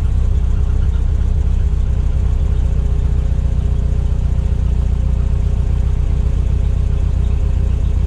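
A Milan car engine idles steadily after a cold start during an oil additive test, a loud, close, continuous low rumble without revving or talk.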